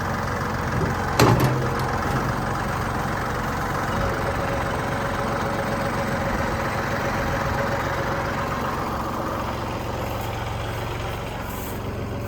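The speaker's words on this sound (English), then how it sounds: "we're going to get the tractor to work and start pulling up these T-posts" A tractor engine runs steadily at a garden plot while pulling up T-posts, a continuous low idle-like rumble with a brief clank near the start.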